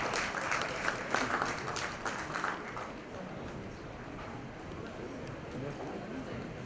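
Audience applause at a book launch event, a dense burst of clapping that is loudest early on and then thins into a lower steady patter of clapping and crowd noise.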